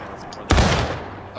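A single sharp musket volley fired on command by a Revolutionary reenactment company, the 1st New Jersey, at a ceremony: one loud, near blast that rings out and slowly fades.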